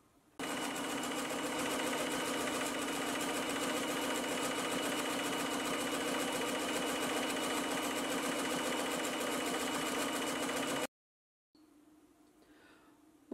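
A JUKI Tajima Sai embroidery machine stitches a fabric mug rug with a loud, steady mechanical whir that runs unbroken for about ten seconds, then stops abruptly and leaves only faint room noise.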